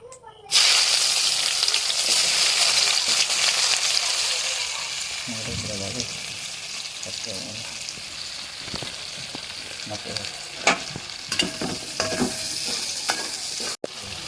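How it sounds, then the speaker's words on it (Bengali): Onions frying in oil to make birista for hilsa biryani, a loud continuous sizzle that gradually softens, with spoon stirring and clinks against the pan near the end. "পেঁয়াজটা ভেজে বেরেস্তাটা কমপ্লিট করে নেব"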